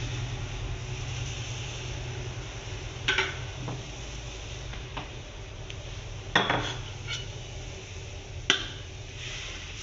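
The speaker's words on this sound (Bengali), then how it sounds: "এই ফুটন্ত জলের মধ্যে দিয়ে দেবো চালের গুঁড়ো।" Rice flour is tipped into boiling salted water in a pot and stirred, with a low steady rumble under three or four sharp metallic clanks of a utensil against the pot; no voices.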